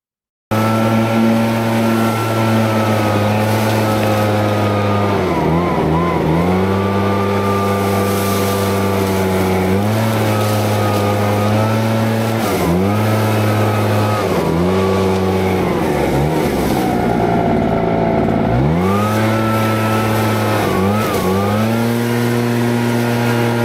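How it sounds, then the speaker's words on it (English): A powerful gas leaf blower runs steadily and loudly close by, its droning engine holding a constant pitch with repeated brief dips and surges in speed, with no voices. "I got this new leaf blower that's fantastic."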